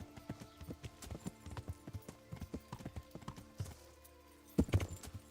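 A horse gallops in the video game Kingdom Come: Deliverance, rapid close hoofbeats in a steady rhythm, then a brief pause and a heavy thud as it lands a jump, with a short whinny.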